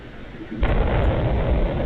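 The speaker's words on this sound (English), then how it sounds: "hearing explosions right now on one of the cams." A sudden heavy boom at about half a second, from a drone or missile attack in Israel's Upper Galilee, gives way to a loud, sustained rumble that continues to the end, with no voices.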